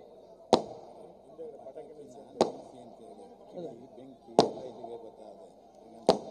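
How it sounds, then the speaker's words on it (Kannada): Four sharp firecracker bangs go off behind the stage at an election victory rally, spaced about two seconds apart, each cutting through a steady murmur of crowd noise and talk. "ಪಟಾಕಿ ಯಾರು ಅಭಿಮಾನಿಗಳು ಹೊಡಿತಿದ್ದೀರಿ, ಹಿಂದ್ಗಡೆ ಬಹಳ ಸದ್ದಾಗ್ತಿದೆ, ದಯಮಾಡಿ ನಿಲ್ಲಿಸಿ"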